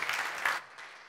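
Applause from a seated audience at a startup demo day pitch event, a dense wash of clapping for about half a second that then thins into lighter scattered claps.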